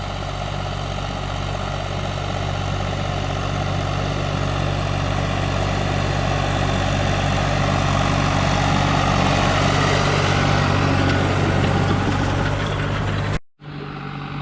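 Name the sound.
tractor engine pulling a disc harrow in a field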